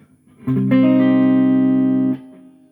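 A single clean electric guitar chord on a Chapman ML3 Pro Traditional's neck pickup rings out warm and sustained for about a second and a half, then is cut off abruptly.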